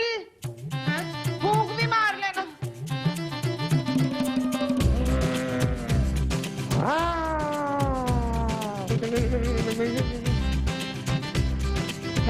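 Cat meowing repeatedly in a home, with long, loud, drawn-out yowls and caterwauls that rise and fall, close to the microphone, with little other sound.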